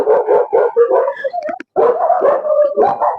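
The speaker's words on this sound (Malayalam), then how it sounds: "ഇതെന്താ പട്ടികളുടെ സമ്മേളനമായിട്ട് നടക്കണ്ടോ?" A pack of dogs barks continuously and loudly nearby in a Kerala village, yips and howls mixing into a dense chorus with one brief pause.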